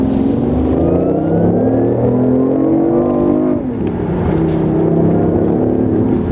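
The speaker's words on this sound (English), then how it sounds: "That's a 3-cylinder engine out of a Mini." A BMW i8's three-cylinder petrol engine, a unit shared with the Mini, pulls hard with a loud, rising growl. The note dips briefly midway, then climbs again.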